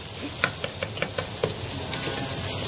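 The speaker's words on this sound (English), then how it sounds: "So we're going to let that fry up just a bit." Rice frying in hot oil in a pan for a jerk snapper and jollof rice meal, a steady close sizzle with a few soft stirring clicks, alone without talk.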